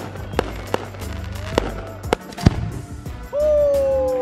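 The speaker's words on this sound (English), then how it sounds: "I liked how the fireworks came out during their first dance." Fireworks go off during a wedding first dance in Puerto Vallarta, Mexico: a series of sharp outdoor bangs and crackles at irregular intervals, ending in a rising whistle-like tone over a steady background din.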